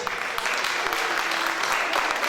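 Audience at a student certificate ceremony applauding a recipient, steady overlapping clapping from many hands at moderate distance, continuous and even, with faint voices underneath.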